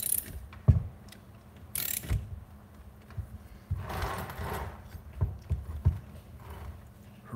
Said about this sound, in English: I suppose it would help to actually ratchet that thing down